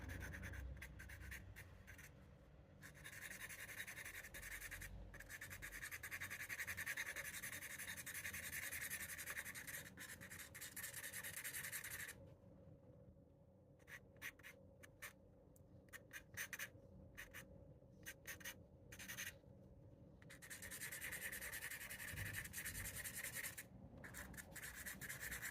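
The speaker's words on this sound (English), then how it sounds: "I think I'll have to do with the eraser now that I have the values down." Eraser rubbing over a pencil sketch on paper, quiet close scratchy strokes coming in bursts with short pauses between them.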